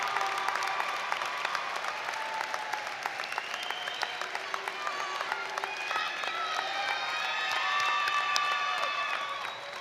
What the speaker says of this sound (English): extending them a round of applause